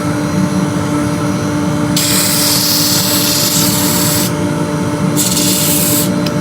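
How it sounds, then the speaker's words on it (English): Timber spinning on a woodturning lathe while a tool slims it down, a loud steady motor drone with bursts of harsh, hissy cutting noise as the tool bites into the wood. "I'm going to start by just slimming this timber down a little bit."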